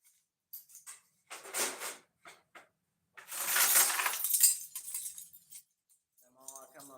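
Small steel foothold traps with extended chains clink and rattle in short bursts while being handled up close, with a brief voice near the end.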